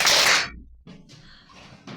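One loud, sharp clap overhead during a classroom exercise break, close and bright at the start, then low room noise and faint movement.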